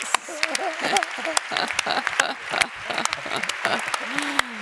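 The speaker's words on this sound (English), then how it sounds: "big round of applause of for her" A round of applause for a female panelist at a leadership conference panel, steady clapping throughout with cheering voices and speech over it.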